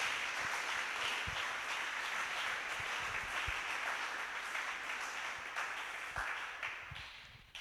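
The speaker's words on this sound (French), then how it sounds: "Acclamons le Seigneur notre Dieu." A church congregation applauding in praise during a French-language prayer service, steady sustained clapping from a crowd at moderate distance, fading slightly toward the end.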